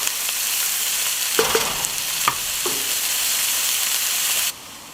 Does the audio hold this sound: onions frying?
yes